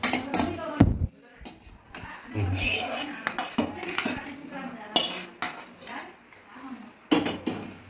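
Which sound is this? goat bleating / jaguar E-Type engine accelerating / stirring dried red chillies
stirring dried red chillies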